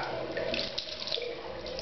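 Water runs steadily from a tap for shaving, a continuous close splashing rush with no breaks.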